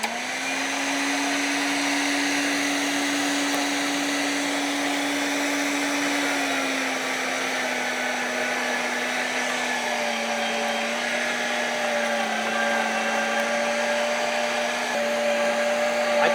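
An electric meat grinder churns through venison, a steady, loud motor whine holding a constant pitch that dips slightly lower partway through as the load increases, running alone without talk.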